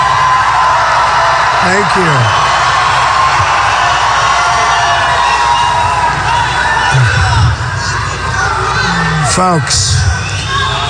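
Large rally crowd at a campaign speech in Raleigh, North Carolina, cheering, whooping and yelling steadily throughout, with someone speaking briefly over the roar.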